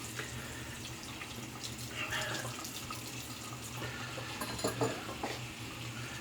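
Tap water runs steadily into a sink to rinse shaving soap out of a brush, a soft continuous splashing hiss at close range with faint clinks near the end.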